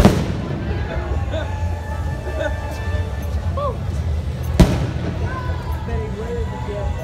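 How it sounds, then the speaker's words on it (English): Fireworks go off at Disneyland amid a crowded park, with booms and crackles over steady crowd murmur and one sharp, loud burst partway through. "Kind of magical walking around, kind of walking around with the fireworks going off"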